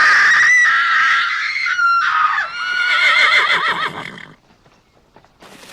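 A horse whinnies loudly in a staged police drama scene, a long wavering neigh in several rising and falling bursts that trails off into near quiet.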